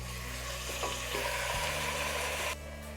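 Mutton pieces coated with turmeric and salt fry with onions in oil for a spicy mutton curry, a steady close sizzle with a low hum under it that cuts off near the end, with no talk.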